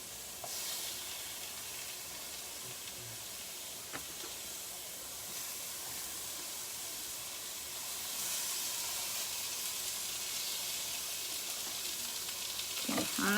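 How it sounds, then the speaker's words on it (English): Beef chunks for crockpot barbacoa searing in a hot pan, a steady, loud, close sizzle and hiss that runs continuously and swells slightly louder near the end, with no talking. "they're searing real quick"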